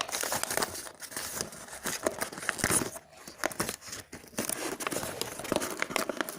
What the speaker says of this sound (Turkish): Sıra e, de poşeti açalım.